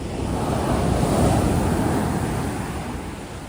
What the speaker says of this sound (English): if you just want to walk around and enjoy the ocean waves like we do today